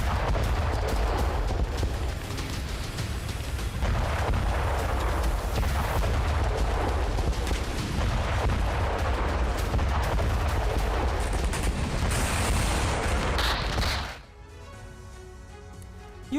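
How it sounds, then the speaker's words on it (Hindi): Military boats explode under a Ukrainian drone attack in the Black Sea, a loud, sustained roar of blasts and rumbling that drops abruptly to a quieter background near the end. "ड्रोन के सामने कुछ बोट्स नजर आ रहे थे। इन बोट्स में धमाका हुआ"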